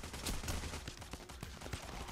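Rapid gunfire in the video game Payday The Heist: dense bursts of shots rattle loudly and continuously, with sharp individual cracks standing out amid the chaotic firefight.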